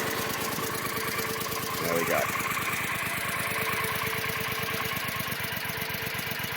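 Triumph America motorcycle with stock exhaust pipes idling steadily, a loud, close, even low thumping pulse throughout, with someone speaking briefly over it.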